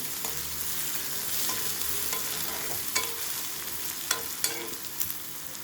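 Onions and spices frying in a home kitchen pan for a tapioca fry, with a steady sizzle and several sharp clinks of a spoon scraping and stirring against the pan.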